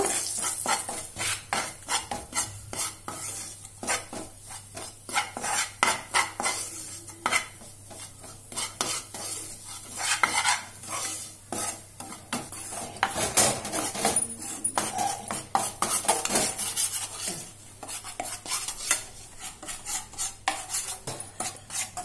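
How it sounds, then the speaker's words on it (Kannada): A spoon scrapes and stirs besan (gram flour) as it roasts in a pan for laddu, making busy, repeated metallic scraping strokes with a faint dry sizzle beneath. "ಇದನ್ನು ಬೇಸನ್ ಹುರ್ಕೊಂಡಾಗೆ ಸ್ವಲ್ಪ ಬ್ರೌನ್ ಕಲರ್ ಹುರ್ಕೋಬೇಕು"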